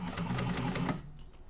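Sewing machine stitching over basting along the zipper of an organizer bag, a steady close mechanical whir that runs for about a second and then stops, leaving quiet.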